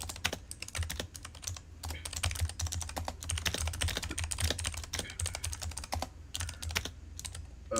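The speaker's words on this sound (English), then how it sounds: "now I can hear you typing in HD" Rapid, uneven clatter of keys typed on a computer keyboard, heard close and continuous with brief pauses between bursts.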